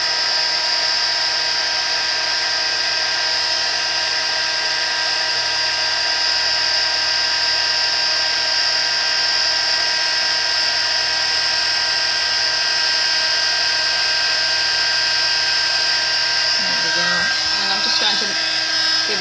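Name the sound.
heat gun heat embossing a card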